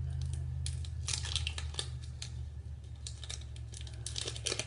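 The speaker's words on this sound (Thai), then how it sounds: "ใช้กรรไกรตัดก็ต้องระวังนิดนึงนะคะ" Scissors cut open a Crest whitening strips packet, giving repeated crinkly snips and plastic rustles close up, over a steady low hum.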